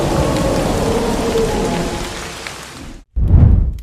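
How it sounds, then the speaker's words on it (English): Heavy rain pours down with a steady loud hiss, then cuts off abruptly and a deep, close thunder rumble booms in. "Another thunder reveal."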